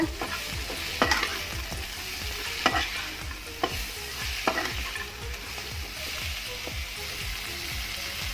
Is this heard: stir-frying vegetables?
yes